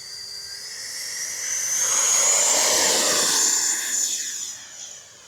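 E-flite F-16 Thunderbird 70mm electric ducted fan RC jet makes a high whooshing whine as it flies past, swelling from moderate to loud at mid-pass then fading away.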